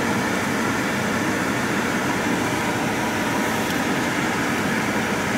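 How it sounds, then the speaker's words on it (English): Constant broadband air rush fills the clip, a steady blowing hum like a car air conditioner on high, with no voices. "Let's turn the AC on"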